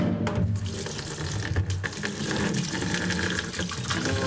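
Tap water pours steadily into a huge 20-litre cooking pot for boiling potatoes, a continuous close rushing splash with no voices.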